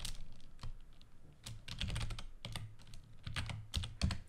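Fingers type code on a computer keyboard in bursts of quick, light clicks and clacks, close and fairly quiet, with short pauses between runs of keystrokes and no voices.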